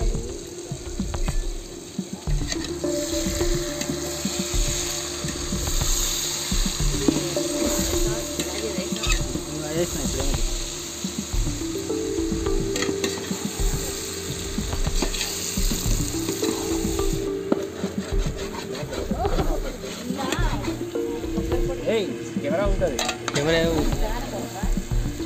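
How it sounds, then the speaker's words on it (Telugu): Ginger-garlic paste frying in a pan for a stuffed masala brinjal curry, a steady sizzle with repeated scraping and stirring strokes of a spoon against the pan, close and continuous with no talk. "ఒక 5 నిమిషాలు అంతసేపు మనము అల్లిమిరగడ్డ పేస్ట్ ఫ్రై చేసుకోవాలి, కలుపుకుంటూ మాడిపోకుండా గీక్కుంటూ"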